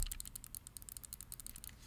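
Extra top buttons on a game controller click rapidly in a dense series of light, crisp taps close up, ending with a soft handling thump.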